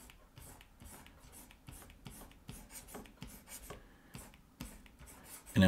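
A pencil sketching a car wheel on paper, giving soft, repeated scratching strokes in short rhythmic bursts, each one close and faint, heard alone without any talk.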